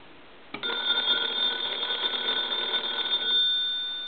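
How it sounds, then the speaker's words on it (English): An electromechanical bell fitted into a converted A&E three-slot payphone rings once, a bright metallic trill lasting nearly three seconds after a quiet start, close and clear with no talking. "we're going to go ahead and ring the telephone now"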